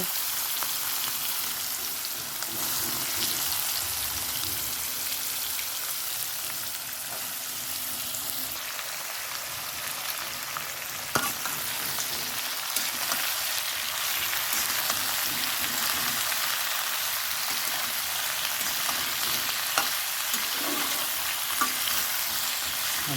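Potatoes fry in reused oil with dried red chilli and onion, giving a steady, close hiss of sizzling with occasional stirring scrapes and small pops throughout, no talk.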